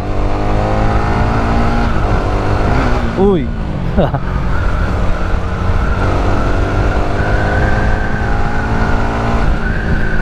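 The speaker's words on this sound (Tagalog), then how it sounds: "Yung tunog niya, galit na galit yung makina." A loud Honda Winner X motorcycle engine, still new and being broken in, revs hard and steadily, its pitch climbing and dropping, with a brief shout from a voice partway through.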